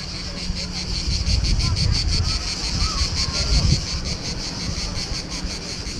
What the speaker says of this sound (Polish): Oczywiście nie mogło zabraknąć cykad.